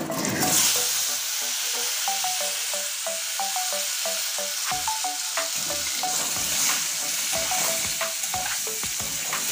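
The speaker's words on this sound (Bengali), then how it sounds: "এখানে আছে কেটে ধুয়ে রাখা আলুটা এবার মাছের তেলে ভেজে নেব" Cut, washed potatoes fry in oil left over from frying rupchanda fish, with a constant bright sizzle and a run of rhythmic metallic clinks and scrapes from stirring.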